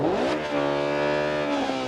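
Damaged car in a PS4 racing sim with a steady transmission whine under engine drone, sustained tonal layers holding and shifting in pitch throughout, loud and close with no talk.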